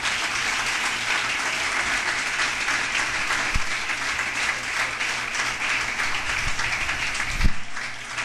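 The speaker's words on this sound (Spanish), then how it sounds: "Den un aplauso al Señor." Sustained congregational applause fills a church service, dense and steady throughout, with a couple of sharper claps or thumps standing out near the end.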